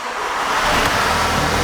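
A VW or Audi car engine runs at a steady idle, a broad low rumble with airy noise, close and continuous without speech.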